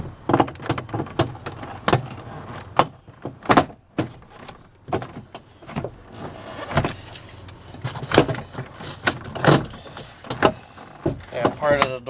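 Plastic retaining clips pop loose as a door panel is pried off a 2002 Chevy Astro, giving a string of sharp snaps and knocks at irregular intervals, close by, with someone talking between them.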